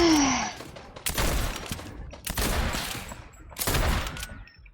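Gunfire in a French-language video game comes as three loud, broad bursts about a second apart, each decaying into a rough tail, with a brief tonal sweep at the start and no clear speech.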